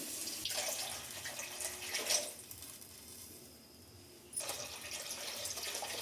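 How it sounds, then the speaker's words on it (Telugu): Water is poured into a pan for rice-flour upma in two close, splashing bursts separated by a quiet pause. "3 గ్లాస్ వాటర్ పోసాను"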